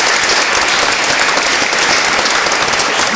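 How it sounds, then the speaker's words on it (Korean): Loud, sustained audience applause at a children's day round-table forum, a thick, even roar of many hands clapping at once that holds without a break from start to finish. "큰 박수 부탁드립니다"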